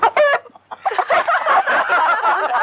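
Chicken clucking, loud and close, opens with a short rhythmic run of clucks before a brief pause and then a longer stretch of busy, overlapping squawks and clucks.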